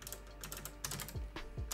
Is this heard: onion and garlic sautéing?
no